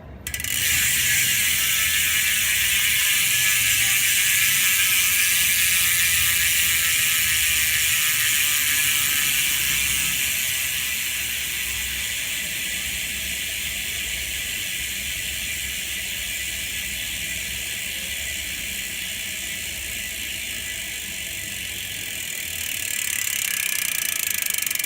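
A Shimano Ultrateam 2018 fishing reel with ceramic bearings is cranked steadily, giving a smooth, even, close mechanical whir with fine ratcheting texture that holds for most of the time, easing slightly midway before picking up again.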